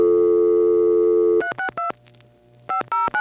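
ITT Pentaconta crossbar telephone switch from 1977 in Asheboro, North Carolina: a steady held tone, then clipped bursts of multifrequency outpulsing tones in quick groups, with a quiet gap between them as the call cuts through to the outgoing trunk.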